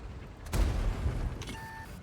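A single heavy tank cannon boom in a video game, from the Kpz. Erich Konzept I, followed by a rumbling tail and a brief high electronic tone, with no talk.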